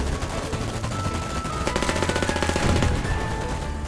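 Rapid machine-gun bursts rattle continuously in the FireFront mobile shooter game, loud and dense, with pounding rhythmic shots and no talk over them.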